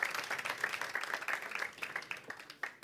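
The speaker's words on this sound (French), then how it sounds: "Applaudissez-le." A church congregation claps in a loose, uneven rhythm of individual hand claps, moderately close, thinning out toward the end with no voices.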